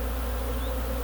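A dense, steady buzzing swarm of bees from an aggressive hive crowds around a beekeeper's suit, many wings droning at once, loud and close with a low hum underneath.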